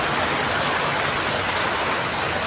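Steady rain pours down at a roadside shelter where motorcycle riders have taken cover, a dense, even hiss of drops on surfaces filling the whole moment without any voices.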